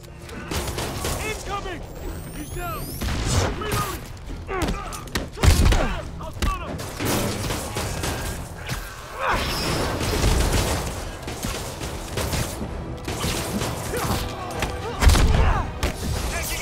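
Gunfire bursts and heavy thuds from a Spider-Man video game break-in, with sharp booms around six and fifteen seconds, mixed with game voices talking throughout over music and mechanical clatter.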